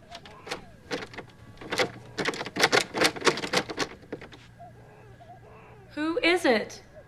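A typewriter clacks in a fast, close run of sharp keystrokes, pauses, then ends with a carriage-return ratchet and rising zip; faint background voices occur.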